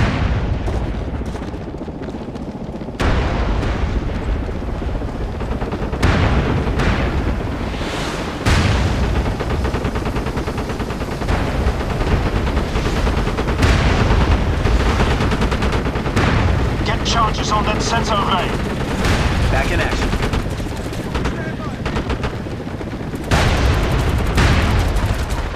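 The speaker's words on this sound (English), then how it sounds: "Enemy mortars are live and back on station." Mortar fire and explosions in the war shooter MAG, a steady stream of booming blasts and gunfire through the whole stretch, dense and loud with voices talking over the battle.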